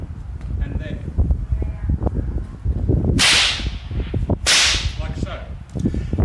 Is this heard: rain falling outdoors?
no